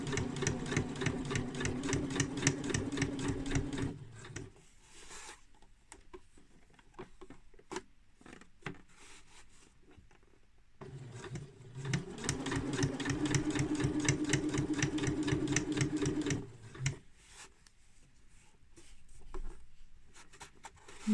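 A sewing machine stitches a zip onto lining and outer fabric in two separate bursts of about four seconds each, close and steady, with quiet handling and rustling of fabric between runs.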